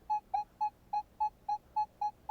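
A Minelab X-Terra Pro metal detector, set to 15 kHz with polyphonic audio, gives a clear signal tone: nine short, evenly spaced beeps in a steady rhythm, sounding close and alone.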